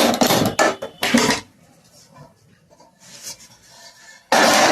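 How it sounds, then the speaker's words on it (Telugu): A large metal kadai (wok) is set down on a kitchen stove with a few loud, close clanking bursts and quieter scraping between them. "కళాయి అండి, పెద్ద కళాయి పెట్టానండి."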